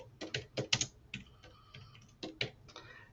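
Close, fairly quiet keystrokes on a computer keyboard as a podcast name is typed in a search field, coming in quick irregular bursts with a short pause midway and no talking.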